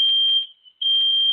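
A shrill, high-pitched electronic alarm blares steadily, cuts out briefly, then resumes, loud and close during an online talk.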